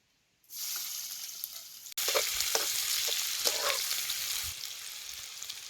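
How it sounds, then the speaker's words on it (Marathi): Lengthwise-sliced onion hits hot oil for a village-style chicken dish, silence giving way to a sudden loud hiss that swells into a steady, close sizzle with occasional stirring scrapes. "लांबड्याचा कांदा चिरून घेतला या आता तेलात भाजून घेतो"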